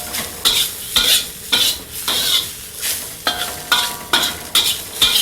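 Celery and cabbage frying in a pan, a close, loud sizzle punctuated by regular rhythmic scrapes and tosses of a utensil about every half second, with no talk.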